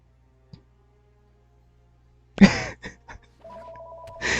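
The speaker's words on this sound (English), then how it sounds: "That is a phone ringing, and I can't stop it." A landline phone rings indoors with a short, fairly faint electronic trill, preceded by a couple of clunks and knocks and then a second burst of ringing.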